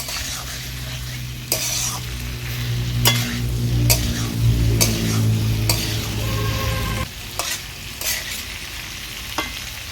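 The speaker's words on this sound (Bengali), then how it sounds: "সব কিছু নেড়ে চেড়ে নিচ্ছি।" Pumpkin cooking with potato in a pan sizzles under repeated stirring, sharp spatula scrapes and clinks against the pan, with a low bubbling simmer that fades partway through.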